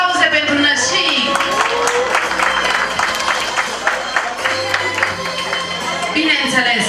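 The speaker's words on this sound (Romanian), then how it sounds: "Ia să vedem aplauze pentru nășic!" Crowd applause for the godparents at a christening celebration, with steady clapping mixed with cheering, voices and music in a lively, crowded room.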